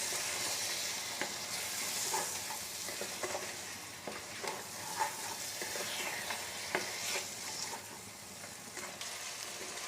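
Cabbage and fish head curry with spices being stirred in a pan, a steady close sizzle with scattered scraping strokes and soft clinks throughout, no talking.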